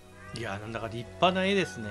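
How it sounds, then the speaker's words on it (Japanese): A cat meows in the video game Monster Hunter Rise, a short whining call under and between a man's Japanese speech. "猫の鳴き声ですかね。"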